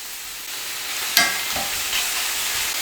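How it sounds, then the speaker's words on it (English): Food sizzles in a hot pan, a steady quiet frying hiss with a brief stir and scrape partway through, heard alone without talking. "Little sizzle."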